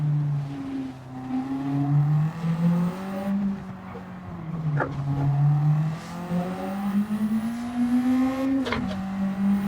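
A Ford Escort's 4-cylinder engine in Gran Turismo 7 drones loudly and steadily, its pitch rising and dipping through gear changes as it accelerates and lifts, with brief tire or gear whines.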